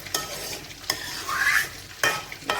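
Thick raw mango pulp cooking down for sun-dried mango rolls, sizzling and bubbling with sharp periodic stirring scrapes and a rising hiss in the middle, close and fairly loud.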